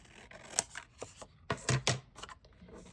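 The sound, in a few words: scissors cutting paper for a file folder craft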